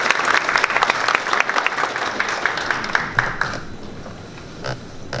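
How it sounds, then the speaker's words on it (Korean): Loud audience applause at a national assembly textile industry forum, dense crowd clapping that gradually thins and fades toward the end, with a few scattered claps trailing off. "큰 박수로 모시겠습니다."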